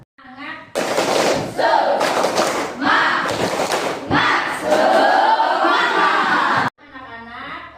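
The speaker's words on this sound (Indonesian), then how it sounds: "mari kita melakukan ice breaking terlebih dahulu dengan melakukan 1 kali tepuk semangat" A class of children in an Indonesian classroom performs a rhythmic clapping chant, shouting in unison between bursts of sharp, synchronized claps, loud and close, framed by a teacher's voice at start and end.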